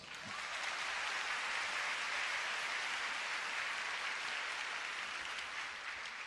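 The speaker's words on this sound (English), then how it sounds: "Shall we give them a round of applause?" Seminar audience applauding at the end of a long day of talks, a dense, steady wash of many hands clapping that holds evenly loud throughout, with no voices over it.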